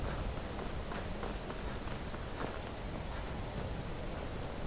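A horse's hooves clop steadily down stairs in Skyrim, a rapid run of hoof hits buried in a dense, constant wash of game noise.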